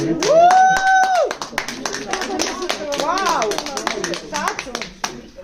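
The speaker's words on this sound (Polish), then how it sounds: "brawa dla pana" A few people clap in quick, uneven bursts while a voice exclaims in amazement and others talk and laugh nearby.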